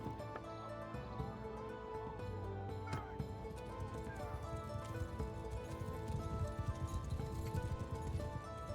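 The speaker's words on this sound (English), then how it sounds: "Meet some horse archers as well." Steady clip-clop of many hooves in a busy, continuous clatter, with an occasional horse whinny and faint voices in a dense battle mix from Mount & Blade II: Bannerlord, with horse archers.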